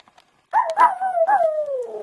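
After a brief quiet moment, a dog lets out a close, drawn-out howl that rises and wavers before slowly sliding down in pitch.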